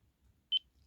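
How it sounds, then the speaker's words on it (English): A single short electronic beep from a Jeti RC transmitter as its proportional knob returns to center, a clean brief tone in a quiet room. "Rotate the knob back till you hear the beep."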